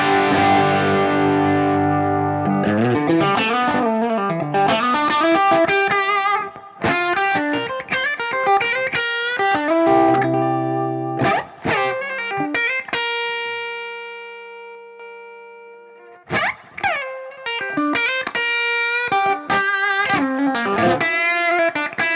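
Electric guitar played through an Origin RevivalDRIVE overdrive pedal set for a pushed Fender Blackface or Marshall tone, loud crunchy chords and single-note lines with sustained ringing notes and brief pauses, alone without talk.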